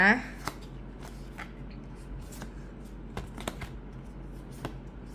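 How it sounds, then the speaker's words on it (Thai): Tarot cards are handled and shuffled in soft, scattered flicks and taps, close but faint, with someone speaking over them. "ป้าจะหยิบไพ่แล้วนะ"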